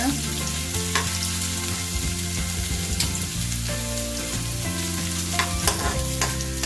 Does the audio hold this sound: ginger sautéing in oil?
yes